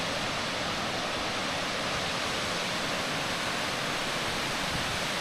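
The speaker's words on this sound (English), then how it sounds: "Fantastic waterfall." A mountain waterfall near Scafell Pike in the Lake District pours with a steady, dense rushing roar, close by and unbroken, with no voices.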